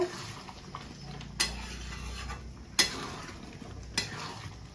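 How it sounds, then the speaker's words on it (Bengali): A pot of chana dal curry stirred with a utensil at a low simmer, three distinct knocks of the spoon against the pot standing out over a soft bubbling, sizzling bed. "তরকারিটা ফুটে গিয়েছে, আর একটু নেড়ে নেব"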